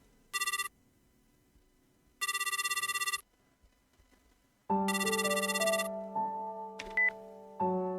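Inside a phone booth, a bright electronic ring sounds in short bursts, followed by a lower multi-tone dial or line signal after a coin is inserted and 117 is dialed.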